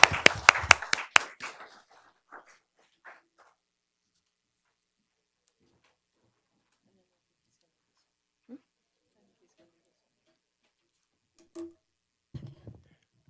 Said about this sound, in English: Well, a big round of applause.